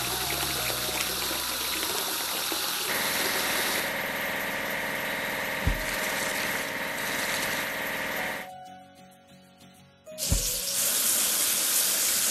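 Water spraying to wash a drop side truck in a house-building video game, a steady broadband hiss over a low idling engine that dips briefly and then surges back near the end.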